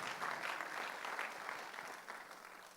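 Church congregation clapping at a Sunday worship service, a soft, fairly distant wash of many hands with a loose rhythm, continuous across the moment and without voices.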